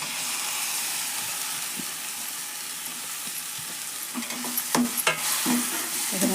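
Chopped tomatoes fry in hot oil in a pan for an okra sukka dish, giving a steady close sizzling hiss, with a few clanks and scrapes of stirring near the end.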